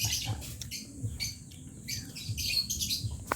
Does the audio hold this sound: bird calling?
yes